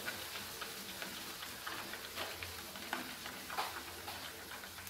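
Melting butter is stirred in a pan, with soft irregular scraping and clicking strokes over a faint sizzle, close and quiet.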